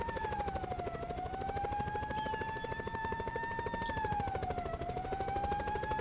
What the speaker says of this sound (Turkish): Ne kadar çok ses çıkarıyorsun helikopter ya